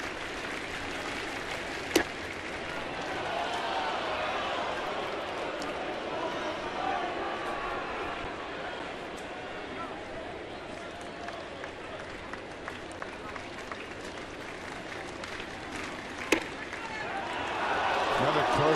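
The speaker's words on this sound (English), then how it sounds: "You can hear the crowd into it as they're questioning Ed Hickox in his strike zone" A baseball crowd at a Blue Jays game in Toronto murmurs and rumbles steadily, swelling toward the end, while a play-by-play voice talks over it and a couple of sharp cracks stand out.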